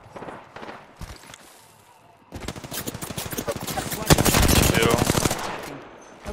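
Automatic weapons fire in a first-person shooter match: a short opening shot, then rapid, rattling bursts of gunfire that grow louder and denser, peaking in a fierce close volley before tapering off.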